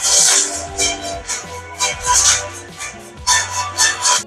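Redmi A3 phone's mono speaker playing music: a thin, bright, somewhat tinny mix with pulsing beats and a busy upper range, heard at steady moderate volume for a few seconds without talk.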